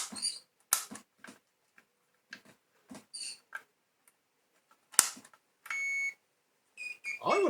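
A multimeter set to continuity testing on a scrap Hoover Junior vacuum cleaner gives a steady electronic beep lasting about a second, among scattered clicks and handling noises from probing the wiring.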